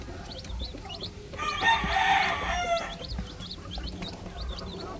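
Newly hatched Rhode Island Red chicks peep in a rapid, continuous chorus of high chirps nearby, with a louder, drawn-out fowl call rising over them in the middle.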